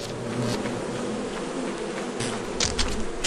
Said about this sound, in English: Every bee is annoyed or upset with me as soon as I step foot near them.